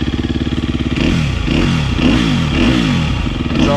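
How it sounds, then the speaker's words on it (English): A motorcycle engine idling and then revving through its exhaust, loud and close, with a pulsing low rumble that rises and falls in repeated throttle blips. "Exhaust sounds good."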